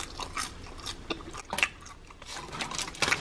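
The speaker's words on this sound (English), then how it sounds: "Listen to this crunch" Close, crisp crunching bites of crunchy macaroni come in irregular bursts, chewed near the mouth, with no talking.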